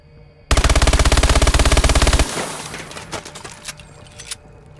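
An MP11 submachine gun fires a rapid, loud burst of about two seconds in Call of Duty Advanced Warfare, followed by scattered clinks and fainter impact sounds.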